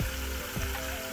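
Vegetables fry in a pan with a little water just added, giving a soft, continuous sizzle and crackle, faint and close, with no voices.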